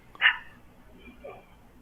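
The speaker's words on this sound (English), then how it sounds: "Yo, little dogs have no chill." A small dog gives one sharp, high bark close by, followed by a fainter second yap in an otherwise quiet setting.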